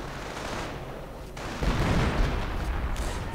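A .30 caliber machine gun firing in a World War II strategy video game, dense rattling bursts amid battle noise, loud and continuous, with a heavier burst halfway through.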